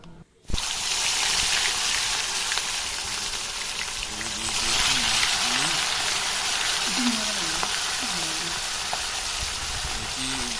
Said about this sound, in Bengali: তেলে দিয়ে দেবো এগুলো, মাছগুলো দুই তিনটা করে ভেজে নেব এগুলো